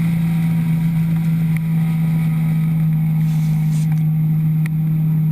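A racing car engine drones steadily and loudly while accelerating onto turn one of a high-banked oval at a speed festival. The note stays fairly even throughout, with no voices over it.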